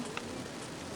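Rain falls during a drive through Vermont, a steady dense patter of drops on the car, even and close for a second with no voices.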